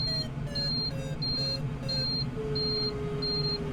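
Electronics on a Got Friends Discus-2C FES RC glider beep about seven times in a steady, evenly spaced series of short tones, heard close up over a constant low hum.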